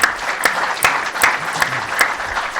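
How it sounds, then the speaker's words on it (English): Audience at a supply chain expo claps for a panel, a fairly loud crowd applause with several sharper, evenly spaced claps standing out near the microphone. "A round of applause for our panel"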